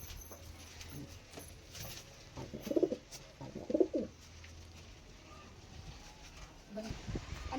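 Pigeons cooing near a nesting box, with two soft bursts of low coos in the middle and a fainter one near the end over quiet background noise.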